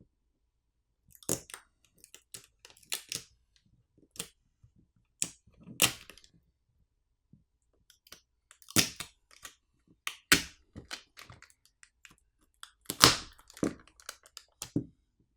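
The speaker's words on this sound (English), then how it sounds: "There's an adhesive pouch which is holding down the battery, which can be peeled off to release it." Adhesive is peeled away from the dual-cell battery of an AGM G3 Pro rugged smartphone, giving sparse, close crackles and sharp snaps in scattered bursts amid quiet gaps.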